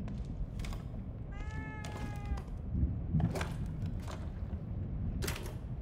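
A cat meows in the video game The Evil Within 2: one clear drawn-out mew in the middle, surrounded by clicks, creaks and game ambience.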